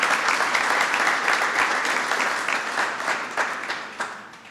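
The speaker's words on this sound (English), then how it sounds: "Would you all join me in giving a vigorous round of applause to the new Secretary of Labor for the United States of America?" A vigorous round of applause from guests at a Cinco de Mayo reception, dense and steady clapping from a sizable crowd that gradually thins and fades toward the end.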